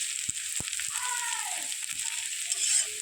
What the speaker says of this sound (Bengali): তার জন্য পেঁয়াজটা তেলে ভাজছি।